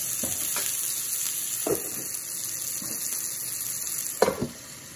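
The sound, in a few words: White Castle style burgers with pickles steaming under dome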